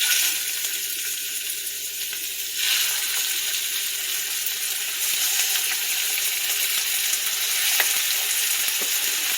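Lemon garlic chicken pieces, peppered and coated, fry in a pan with a steady, even sizzle, joined by a few faint clinks and a brief louder burst partway through.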